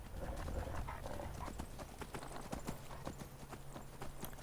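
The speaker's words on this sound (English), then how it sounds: "Good thing I've got a horse." A stolen horse in a video game clip-clops at a steady gait, its hoof beats close and rhythmic over a low background rumble, with no speech.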